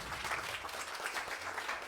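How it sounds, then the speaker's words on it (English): A small audience at a talk gives a speaker a round of applause, a soft, muffled spread of clapping heard from some distance, with no speech. "then another round of applause for Erin."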